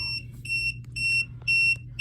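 A TST tire pressure monitor sounds its low-pressure alarm, a loud, piercing electronic beep repeating in short bursts about every half second, heard close with no voices.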